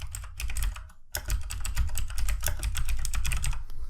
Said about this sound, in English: So I'm going to type in After Effects tutorial.